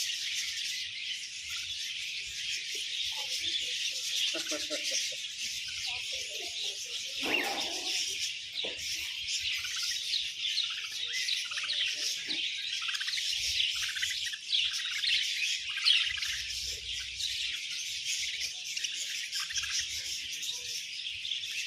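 Dense, continuous chirping and tweeting from many birds at a bird park, steady and fairly loud throughout with no talk.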